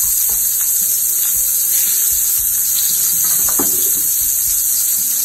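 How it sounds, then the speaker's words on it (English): Onions and mushrooms sauté in a pan for a spinach, bacon and mushroom frittata, giving a steady, loud, close sizzle with a few clinks and stirring scrapes, and nobody speaking. "We're gonna saute that off"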